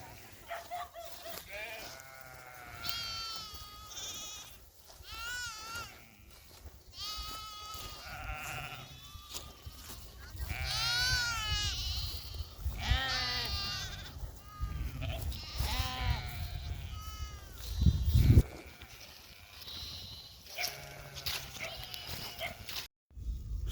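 Goats and sheep bleating repeatedly in a rural setting, a string of wavering calls from several animals at close to middle distance, with some low rustling and a few heavier bumps between them.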